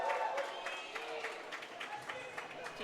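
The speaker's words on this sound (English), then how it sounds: "People are cheering." A roller derby crowd cheers and claps in a large hall during a team timeout, a diffuse roar with scattered claps and shouts mixed with nearby voices.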